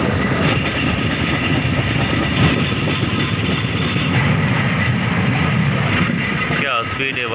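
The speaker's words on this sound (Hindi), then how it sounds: "तुरंत स्पीड पकड़ जाती है लोकल ट्रेन" A Mumbai local train rumbles steadily along the tracks at speed, a dense continuous roar with rattling undertones and faint voices mixed in.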